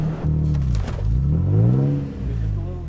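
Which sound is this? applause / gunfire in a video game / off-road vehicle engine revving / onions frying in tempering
off-road vehicle engine revving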